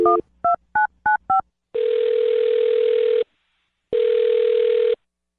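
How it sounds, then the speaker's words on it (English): A telephone dials a number with five quick touch-tone beeps, then two long, loud ringback tones follow, separated by a short silence, with no voices. "I'm going to dial the phone number and call him"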